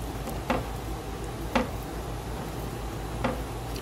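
Omelet eggs cooking in a pan and pushed in from the sides with a non-stick spatula, a faint soft sizzle beneath three brief scraping strokes spaced a second or so apart.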